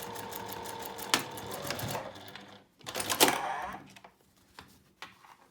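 A sewing machine stitches binding onto a quilt-as-you-go patchwork coaster in two short whirring runs, separated by pauses filled with handling noise and soft clicks, close up.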